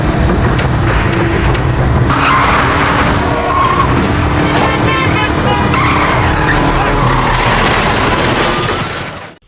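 Tires screech loudly as a motorcycle skids, a dramatic sound effect that runs for several seconds over a dense, roaring background before cutting off abruptly.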